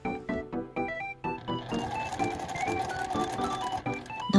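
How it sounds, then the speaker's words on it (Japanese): A sewing machine runs a seam with a 1 cm allowance on a small scrap-fabric box pouch, starting with a few short stitch bursts and then running steadily at close range, with faint music underneath. "縫い代1センチで縫います。"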